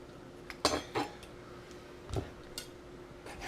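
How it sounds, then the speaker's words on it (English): A knife slices through raw chicken breast on a cutting board, giving a few soft, sparse taps and thuds with quiet gaps between them. "And then we're just going to cut it right down in the middle."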